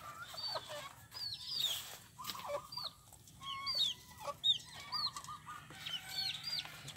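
Chicks peeping and clucking nearby, a busy stream of high chirps overlapping in an outdoor setting, with soft background rustling and no talk.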